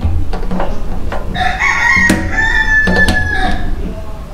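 A nearby rooster lets out a long, loud crow in the middle, with clucks and clicks around it over a constant background hum.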